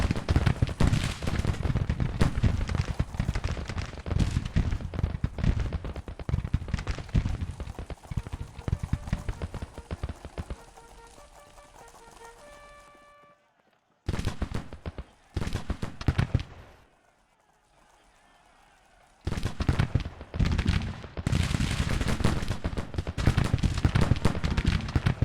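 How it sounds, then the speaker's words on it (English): Musket volleys crash out in a Civil War video game, dense loud crackling fire with hoof-like clatter, dropping away into near silence and a brief lull before the ragged volleys resume strongly. "Fire! A couple of volleys."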